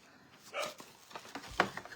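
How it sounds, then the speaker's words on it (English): Dog barking indoors, a few short yips and barks scattered through a quiet room, faint and at a moderate distance, with brief human speech nearby. "Now Stella's barking"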